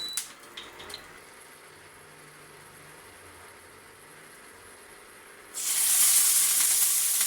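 Beef fat goes into hot cooking oil: after a quiet stretch with faint crackles, a loud, bright sizzle bursts up suddenly and holds steady as a close, hissing fry.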